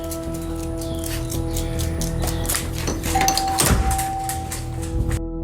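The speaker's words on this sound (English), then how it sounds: "the doorbell suddenly begins to ring for no reason" An electronic doorbell chime rings out amid a cluttered indoor background, followed by a short sustained tone.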